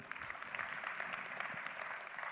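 Faint, distant applause from a seated crowd at a team leadership training event, a steady patter of many hands with no voices on top.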